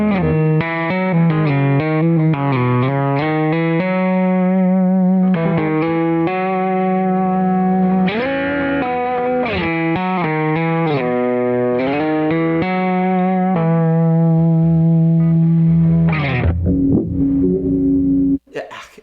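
Electric guitar through a Kemper profiler with the wet effects switched off, dry distorted tone playing a continuous melodic line of sustained and bending notes, close and fairly loud, ending abruptly.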